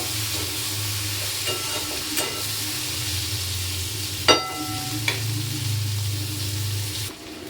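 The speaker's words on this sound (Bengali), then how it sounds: "পেঁয়াজটাকে একটু লাল লাল করে ভেজে নেব।" Onions frying in a pan until reddish: a soft, continuous sizzle with a low hum underneath, broken by a few sharp clinks of a utensil against the pan.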